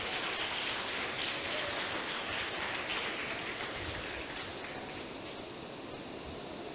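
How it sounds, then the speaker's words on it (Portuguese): Church congregation at a family worship service applauds, a broad, sustained roar of many hands filling the room evenly, loud and continuous with no voices standing out. "Pode aplaudir o Senhor"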